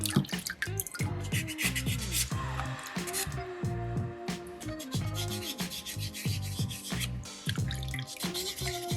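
Water rinsing a soapstone sea turtle carving during wet sanding, close dripping and splashing mixed with rubbing and scraping of sandpaper on stone, busy and irregular.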